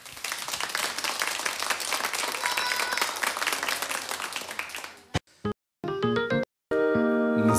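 Studio audience applause on a Bulgarian stage contest show, sustained clapping for about five seconds that then cuts abruptly into brief bursts of music and sound.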